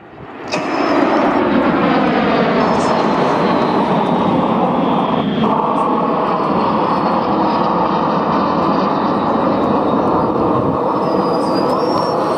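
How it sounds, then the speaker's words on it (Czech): A loud, steady jet roar from an L-39 Albatros jet aircraft flypast at an air show swells in within the first second and holds at full strength throughout, with a faint high whine riding on top. "Průlet loučící se letounu"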